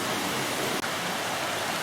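Water rushing over a scenic ford at the bottom of a hill on Dartmoor, a steady, dense broadband roar that fills the whole clip without a break.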